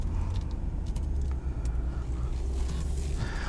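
Steady low road rumble from a 2018 Ram 2500HD SLT pickup with the 6.4L engine while driving, a continuous close drone with faint creaks and no talking.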